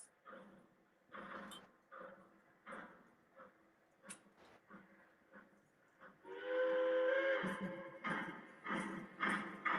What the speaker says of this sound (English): I'll turn up the sounds on this engine.